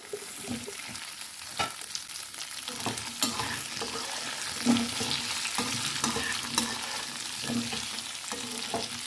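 Roasted moong lentils and potato fry in a pan under a soft, even sizzle, with frequent light scrapes and clicks of a stirring utensil that grow slightly busier over time.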